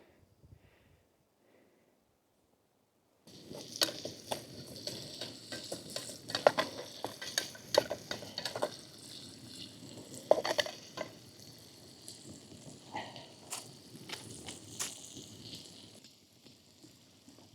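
After a quiet start, onions hit a hot pot and sizzle steadily, with crackling spatters and occasional stirring scrapes, no speech, cooking outdoors by a lake in winter in Finland.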